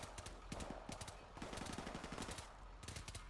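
Rapid automatic gunfire from the Call of Duty: Modern Warfare video game crackles in dense, repeated bursts, fairly quiet and steady over the few seconds.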